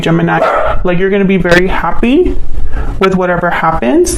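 A dog barks in the background, with a few sharp barks and yips blended beneath a person speaking close to the microphone.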